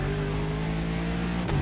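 A luxury hypercar with four-figure horsepower revs in The Crew Motorfest racing game, giving a loud, sustained engine drone with steady harmonic tones and a brief rise near the end.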